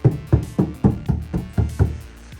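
Tapping on the rear door of a 2024 Ford Ranger Raptor that has not been soundproofed, with eight hollow, tinny knocks in a steady rhythm, close and fairly loud, heard alone.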